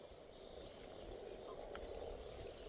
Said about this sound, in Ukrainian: Ага, це жаби, живі прям.